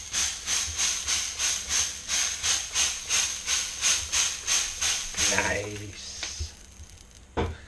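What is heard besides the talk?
steak with peri peri rub sizzling in cast iron skillet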